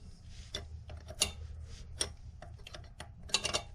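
A 7/16 inch wrench loosens the nut on an old toilet, giving faint, scattered metallic ticks and clicks at an uneven pace, close by and alone.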